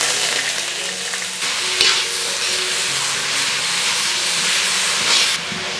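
Chopped cabbage dropped into a hot pan of fried mustard seeds for cabbage thoran, giving a loud, steady sizzle and hiss of frying with stirring, continuous and close throughout.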